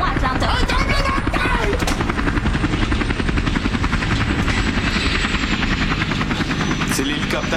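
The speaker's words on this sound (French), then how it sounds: "C'est l'hélicoptère de Che." A helicopter thrums steadily at close range, its rotor chop running loud and continuous throughout, with speech mixed in.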